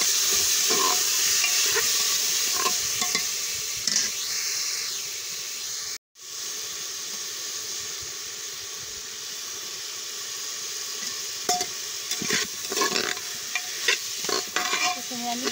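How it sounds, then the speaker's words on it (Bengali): Lentils being roasted with turmeric, salt and oil in a pressure cooker give a steady hiss and sizzle, with repeated scraping strokes from stirring and a brief break midway. "প্রথমে আমি ডালটাকে ভালো করে হলুদ লবণ তেল দিয়ে কষিয়ে নিচ্ছি প্রেশার কুকারে"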